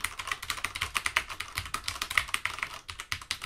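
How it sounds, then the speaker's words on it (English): Keys on a Cooler Master CM Storm QuickFire Rapid mechanical gaming keyboard clack in a quick, uneven run of sharp, close clicks, heard alone without talk. "As you guys can hear, as I'm clicking, all of the keys make noise"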